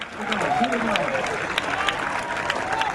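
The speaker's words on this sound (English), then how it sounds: "Crowd's cheering them on" Crowd cheers and applause roll steadily from the stands at a 2010 USA Track & Field Championship 10K on the track, a sustained, fairly loud wash of voices with a few sharper claps and shouts throughout.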